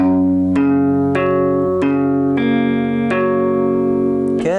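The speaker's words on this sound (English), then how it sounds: "pluck 6, 5, 4, 5, and then the 3rd string, then the 4th string" Guitar notes of a bar chord shape plucked one string at a time, each ringing on into the next, about six plucks at an even pace, close and clear with a slight effects tone.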